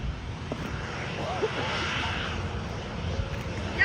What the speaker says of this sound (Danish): Det er sjældent fly, det her, Chris.